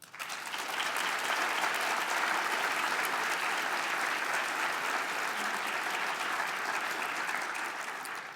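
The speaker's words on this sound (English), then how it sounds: "these people deserve your applause." Sustained applause from an audience at a university faculty and staff spring forum, a dense wash of clapping that swells quickly and holds steady for several seconds before tapering slightly.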